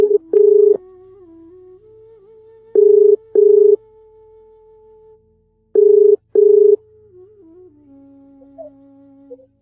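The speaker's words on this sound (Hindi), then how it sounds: "तो चलिए मिलाते हैं फोन श्री राकेश टिकैत जी को" A telephone is dialed for a radio call-in interview, with loud tone-dial key bursts coming in pairs and a single key, separated by a steady dial tone that changes pitch near the end.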